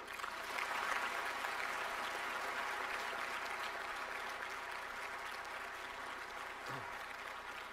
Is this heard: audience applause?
yes